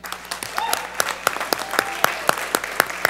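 Audience at a formal session applauding in honour of Batista Custódio and the Diário da Manhã newspaper, sharp claps falling in a fairly regular rhythm over a low crowd murmur, close and lively.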